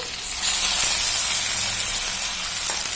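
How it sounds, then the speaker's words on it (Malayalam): A small plantain lands in a pan of caramelized sugar and sets off a loud, continuous sizzle and steamy hiss, close up and steady with no talking. "നമുക്ക് ഈ ഒരു ചെറിയ ഏത്തപ്പഴം നമ്മുടെ ഈ കാരമലൈസ് ചെയ്ത് വെച്ചിരിക്കുന്ന ഷുഗറിനകത്തോട്ട് ഇട്ട് കൊടുക്കാം"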